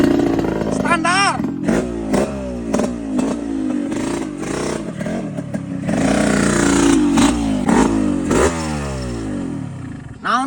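A standard motorcycle engine revs repeatedly in loud, wavering bursts, the pitch sweeping up and down with clattering mechanical noise, close to the listener throughout.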